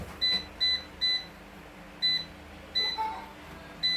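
A series of short, high electronic beeps from an electric pressure cooker's button panel, six or seven chirps at uneven intervals over a faint background hum.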